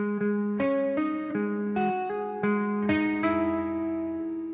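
A distorted electric guitar in drop tuning plays a short metal phrase of hammered-on notes at a moderate pace, each note ringing into the next with sustained, gritty harmonics and no talking.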